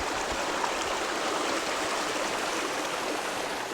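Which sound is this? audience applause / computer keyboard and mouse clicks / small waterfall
small waterfall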